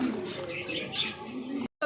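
Pigeons cooing in a loft with several birds, soft throaty coos overlapping continuously at close range with faint chirps, followed by a brief cut to silence at the end.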